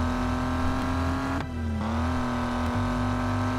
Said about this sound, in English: they do have pretty responsive sound effects to what the car is doing